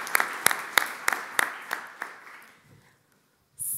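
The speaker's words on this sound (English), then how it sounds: "So one round of applause for Alexandra." An audience applauds a guest at an evening university talk on AI, with a brief burst of clapping that thins out and fades into near silence.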